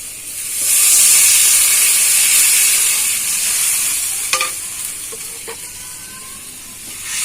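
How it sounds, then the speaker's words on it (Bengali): Water hits hot oil in a pan of Bengali doi parshe fish curry, bursting into a loud steamy sizzle that settles into a steady hiss, with a few sharp scraping stirs of the spatula. "এবার তেল ছেড়ে দিয়েছি, এবার জল দিয়ে দেবো।"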